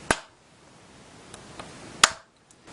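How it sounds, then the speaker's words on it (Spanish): A single sharp hand clap sounds close and alone, followed about two seconds later by a second crisp clap, with faint small clicks between, in a quiet room during a test of a homemade clap-activated sound detector. "Lo vamos a probar con un aplauso."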